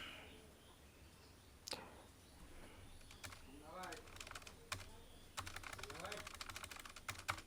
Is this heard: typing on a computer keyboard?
yes